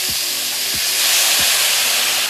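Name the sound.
soy sauce added to hot pot with meat, sizzling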